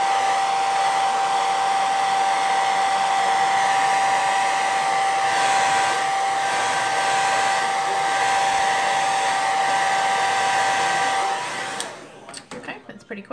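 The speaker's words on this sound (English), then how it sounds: "I'm going to just use the hairdryer on low to kind of dry that up quicker" A handheld hair dryer on its low setting blows with a steady whirring hum while drying a freshly applied makeup primer, then cuts off near the end, leaving a few faint handling sounds.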